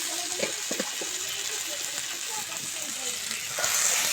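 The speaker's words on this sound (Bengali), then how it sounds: "সবজিটাকে ভেজে নেব আমি হালকা করে" Vegetables frying lightly in oil for a rohu fish curry with papaya and green banana, a soft continuous sizzle with occasional stirring clicks, close and moderate, swelling slightly at the end.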